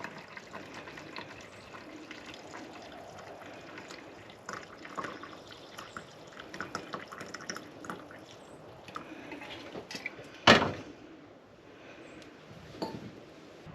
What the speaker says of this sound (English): We're gonna pour this coffee